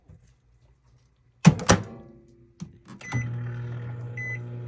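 A microwave oven heating a Filipino dish: a door thunks shut, a couple of button clicks and a beep follow, then the oven's steady low hum starts and carries on, with a short high tone near the end.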